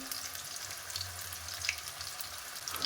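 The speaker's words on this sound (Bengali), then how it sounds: "আর এই যে তেলের সঙ্গে যে মশলাটা ভাজা হচ্ছে" Spice mix frying in mustard oil for a raw mango pickle, a steady fine crackling sizzle throughout with faint stirring, no talk.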